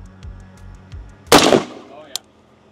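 A single sharp gunshot cracks out loudly mid-clip, followed by a decaying tail and a brief secondary snap, amid soft low thumps beforehand.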